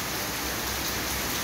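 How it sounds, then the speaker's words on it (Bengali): Steady rain falling, a dense even hiss of drops that fills the whole clip with no voices. "বৃষ্টি পড়ছে"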